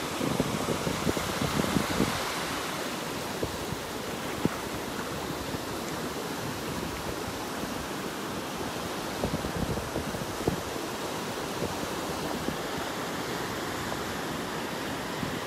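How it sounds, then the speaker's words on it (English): Steady surf breaking on the beach at Pawleys Island, South Carolina, after a storm, heard as a continuous broad wash of waves with wind. It stays constant and moderately loud with no talking. "You can see the waves are pretty close together."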